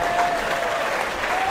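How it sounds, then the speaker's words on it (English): A church congregation breaks into dense, steady applause, a loud wash of many hands clapping together with no pause and little voice over it. "Give Jesus a clap of it."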